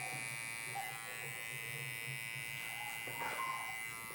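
An electric hair clipper hums steadily throughout a bald fade haircut, a constant buzzing drone that shifts slightly in pitch near the end as the blade is adjusted.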